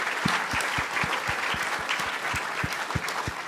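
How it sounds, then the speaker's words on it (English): An audience at a city leadership debate applauds the candidates on stage, sustained even clapping with a regular pattern of sharper claps standing out close by. "I think give a big round of applause for them,"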